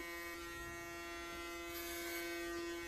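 Electric clippers buzz steadily at close range with a constant high hum, no voices over it.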